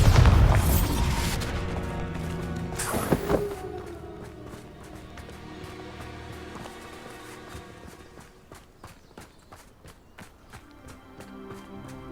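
A Bombarda spell cast in Hogwarts Legacy sets off a loud, close blast at the start and a second sharp burst moments later, then a fading rumble with faint scattered taps.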